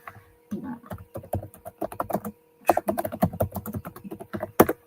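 Computer keyboard typing in quick uneven bursts of clicking keys, close and clear, with short pauses between runs of keystrokes.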